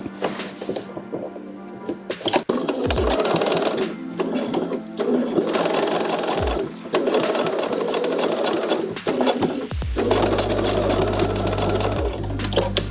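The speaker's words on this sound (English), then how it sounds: "I will go to my standard sewing machine though, and I will do a small back tack here on the sides" A sewing machine motor whirs steadily in short stitching runs while back tacking the sides of a bodysuit, stopping and restarting several times, close and fairly loud.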